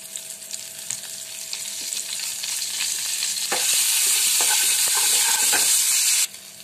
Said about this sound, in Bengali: এবার এর মধ্যে আমি শুকনো লঙ্কা, পাঁচফোড়ন আর কারি পাতা ফোড়ন দেবো